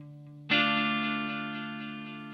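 An electric guitar chord struck once through an EarthQuaker Devices Silos delay pedal, ringing out and slowly fading as its repeats blend into the sustain, with no talking.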